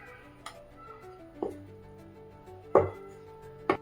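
Knife chopping through sheets of sesame brittle (til papdi) on a board, four sharp separate cuts at irregular intervals, close and fairly quiet, with no talk.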